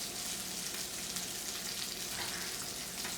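Prosciutto-wrapped salmon frying in oil in a pan gives a soft, even, continuous sizzle that stays at a low, constant level.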